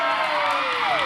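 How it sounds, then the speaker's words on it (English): Roller derby crowd cheering at a hometown bout, a dense sustained roar with shouts and whoops rising over it. "Listen to that crowd."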